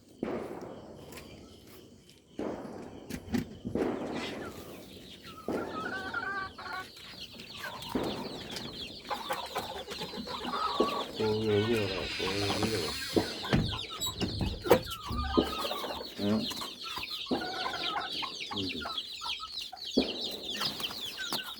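Chickens and chicks cluck and squawk close by inside a coop in bursts, mixed with scuffling, knocks and rustling movement throughout.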